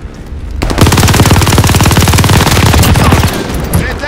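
Sustained automatic gunfire from Call of Duty gameplay, a loud rapid burst of machine-gun shots firing continuously for about three seconds after a brief quieter lead-in, then tailing off.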